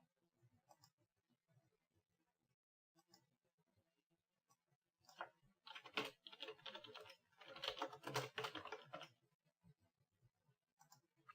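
Typing on a computer keyboard sounds close and faint, with scattered soft keystrokes that build into a denser, faster burst in the middle before thinning out again.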